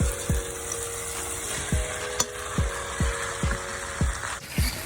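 Spaghetti poured into a pan of sizzling sauce for Haitian spaghetti: a steady frying hiss with repeated low thumps of stirring or tossing, close and continuous.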